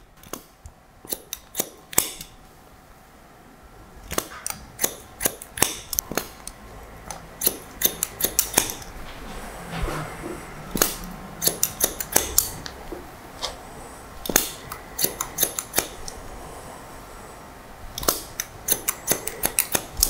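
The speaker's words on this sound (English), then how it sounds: "We'll cut this nice and straight." Barber's scissors cut hair during a short textured fringe fade haircut. The snips are crisp and close, coming in quick irregular bursts with short pauses and no talking.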